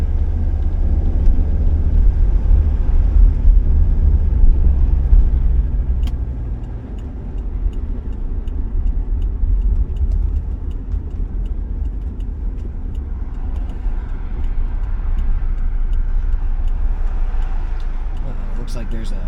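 A 1980s diesel Mercedes car drives on a wet road, its engine rumbling low and steady from inside the cabin, with a constant hiss of road noise throughout.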